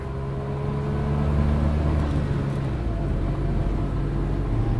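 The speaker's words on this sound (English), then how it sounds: "right now we're driving a 1958 Saab 93B" A 1958 Saab 93B with its three-cylinder engine drives along, giving a steady low drone with a slight rise in pitch partway through, close and continuous, with no talk.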